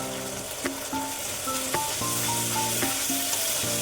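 Soybean masala with yogurt sautés in a pan, a continuous dense sizzle with scattered stirring clicks, steady and close, while faint tonal music plays underneath.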